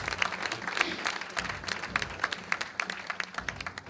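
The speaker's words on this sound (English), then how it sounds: "Could we have a round of applause for the winners?" Luncheon audience at a 25th anniversary event applauding the winners, a moderate patter of many hands clapping at a slight distance, uneven and fairly soft, thinning gradually toward the end.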